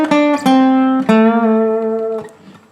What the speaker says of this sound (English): The second bass fill sounds like this.